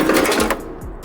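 A power cutter slices through a car roof's sheet metal while it is cut open for a sunroof, a loud, close, rapid buzzing rasp that stops abruptly after about half a second, leaving a faint hum.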